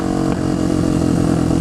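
Steady running of a Suzuki DR 650 supermoto motorcycle engine, a continuous loud low drone with an even throb, heard close and alone.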